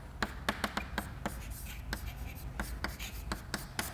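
Chalk or pen strokes on a board during a statistics lecture: a quick series of crisp taps and short scratches in an uneven rhythm, close and fairly faint.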